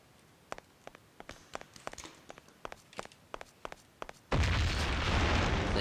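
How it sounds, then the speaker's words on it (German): In the Mafia video game a run of footsteps taps along quietly, then a grenade explosion suddenly erupts into a loud, sustained roar. "Da kam doch auch irgendwie eine Granate runter"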